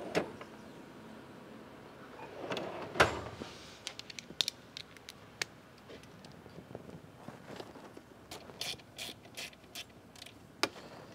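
A ratchet wrench works on the throttle body of a Porsche Macan GTS: quiet, scattered sharp clicks and short ratcheting bursts, with soft mechanical handling sounds in between.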